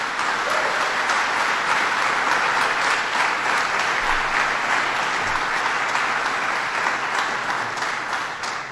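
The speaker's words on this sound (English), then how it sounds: "Let's give him a round of applause." Audience at a public event with Governor Cuomo giving a round of applause, a dense, even wash of clapping that holds steady and loud throughout before easing slightly at the very end.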